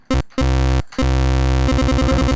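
A buzzy, square-wave PICO-8 chiptune bass plays sustained low notes, then a quick repeating staccato pattern, loud and alone.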